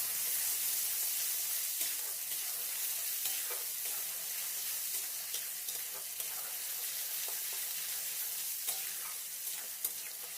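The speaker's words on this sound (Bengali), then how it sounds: "এবার এই মশলাটাকে 2 থেকে 3 মিনিট ধরে একটু কষিয়ে নিতে হবে।" A masala spice mix is stir-fried in a pan for a green pea dish. A soft, steady sizzle runs on, broken by faint scrapes and clicks of stirring, with no talk.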